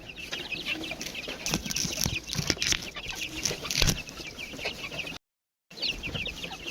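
Local-breed chickens clucking and squawking while feeding, a busy close chorus of overlapping calls that continues steadily with a brief gap of silence near the end.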